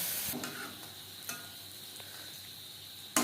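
Lentil fritters for dahi vada frying in hot oil over a medium flame, a steady close sizzle with a few brief clatters and a sharper knock at the end.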